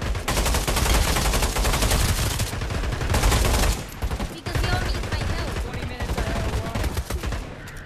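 Sustained automatic gunfire in the zombies mode of the Pavlov VR video game: a dense, loud, continuous rattle of shots with a brief lull partway through before the firing resumes just as heavily.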